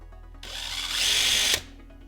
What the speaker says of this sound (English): let's go ahead and drill into that and see what we get.